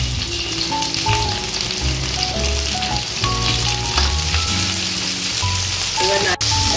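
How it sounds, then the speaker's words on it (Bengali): Chopped onions go into hot oil with minced garlic for chilli chicken, setting off a loud, steady, close sizzle and crackle that runs the whole time, with faint tonal sounds in the background. "এবার দিয়ে দেবো পেঁয়াজ।"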